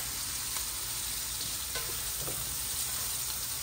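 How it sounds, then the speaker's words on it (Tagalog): Garlic and onion sauté in a pan, giving off a steady, quiet, continuous sizzle with a few faint spatula touches and no voices. "magigisa tayo ng bawang, sibuyas"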